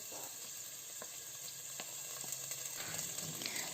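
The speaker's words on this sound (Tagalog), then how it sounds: "lutuin lang natin ang ating bawang" Garlic and minced onion frying in cooking oil for lomi, a steady soft sizzle with faint clinks and scrapes over it, no voices.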